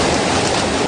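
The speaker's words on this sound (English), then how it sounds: "Despite the drizzling rain" Drizzling rain falls in a steady, loud, even hiss of countless fine drops on surfaces, unbroken through the whole moment, with no voices.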